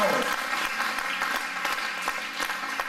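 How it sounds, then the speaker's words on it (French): Church congregation at Eglise Novation breaks into sustained applause, a dense crackling wash of many hands with a few sharper claps, steady and fairly close, with faint voices mixed underneath. "vous pouvez applaudir le Seigneur si vous voulez."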